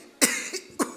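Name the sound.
voice imitating an old man's cough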